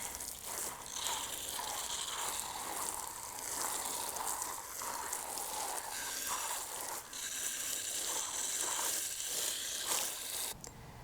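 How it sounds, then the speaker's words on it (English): Water pours steadily onto newly planted onion seedlings in a garden bed, a continuous close hiss and splash lasting throughout, shifting slightly in intensity near the end. "I finally get to water everything in."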